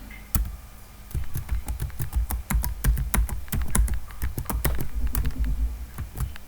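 Rapid, uneven clicking of keys on a computer keyboard as a password is typed, close and clear with no talking.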